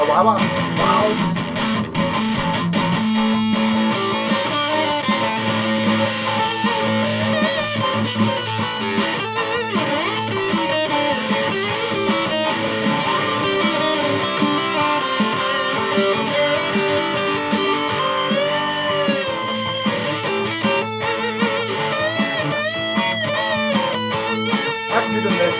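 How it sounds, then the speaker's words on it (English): Electric guitar through a loud distortion pedal with a grinding, cement-mixer-like churn, a long continuous stretch of thick, fuzzy chords and notes at steady, fairly high loudness. "That's good in the cement mixing sound with the first pedal."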